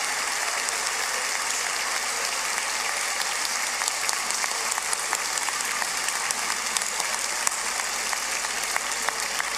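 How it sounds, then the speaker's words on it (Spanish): Sustained, loud applause from a large audience at a municipal public accounts ceremony, a dense and even roar of many hands clapping that holds steady for the whole stretch. "Un fuerte aplauso para los de aquí y los de allá"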